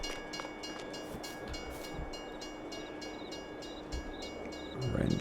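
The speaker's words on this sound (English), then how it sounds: "Rent the train." A train in the Farming Simulator 22 video game rumbles steadily with rhythmic clicking of the wagons, a continuous rolling sound that swells slightly at the end, with no talk.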